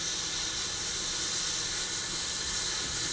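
A spray can lays down a wet coat of chrome paint on a luggage rack from a 1969 Corvette 427, producing a loud, constant hiss close by without a break.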